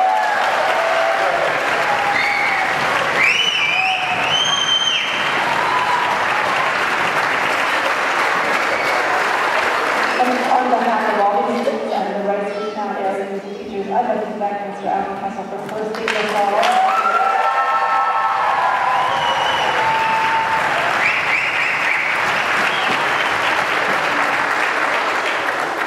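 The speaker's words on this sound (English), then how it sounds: "One more round of applause." Loud audience applause and cheering after a strings concert, sustained clapping filling nearly the whole stretch, with a brief lull midway where a voice speaks before the clapping swells again.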